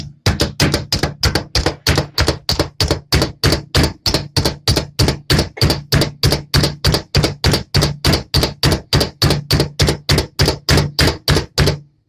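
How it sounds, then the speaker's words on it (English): An onion being chopped with a knife on a cutting board in a home kitchen, a steady rapid run of loud, close, even knocks repeating without pause throughout. "I'm going to put this other onion down in here. We're going to chop it up."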